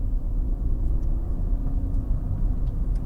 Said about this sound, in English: It's just changed gear at 3000 RPM.